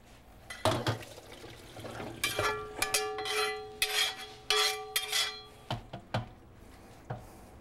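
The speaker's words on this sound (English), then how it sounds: "I'm gonna take that over here to the sink and drain it and give it a quick rinse" Cooked ground beef is drained and rinsed at a kitchen sink, with splashing water, clattering pan and utensil knocks, and brief ringing tones coming in uneven bursts at close range.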